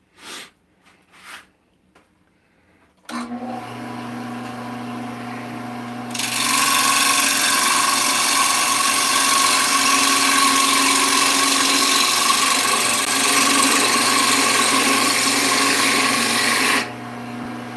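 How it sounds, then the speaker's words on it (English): A Wen wood lathe, a small entry-level machine, spins up with a steady motor hum after a few faint clicks. Then a loud, continuous scraping hiss of a tool cutting the turning wood runs for about ten seconds before easing back to the hum. "I would not get a lathe like this"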